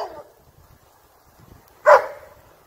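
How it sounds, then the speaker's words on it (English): A dog barks excitedly at a deer outdoors, caught on a trail camera: one sharp, loud bark after a fainter yelp, separated by near silence. "The pup's excited barks might be a bit much for the deer."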